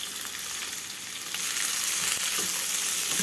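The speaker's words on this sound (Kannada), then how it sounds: "ಈರುಳ್ಳಿನ ಚೆನ್ನಾಗಿ ಬಾಡಿಸ್ಕೊಳ್ಳೋಣ." Chopped onions sizzle steadily in a hot pan for a dosa breakfast dish, a continuous close frying hiss that grows slightly louder partway through, with faint stirring and no talking.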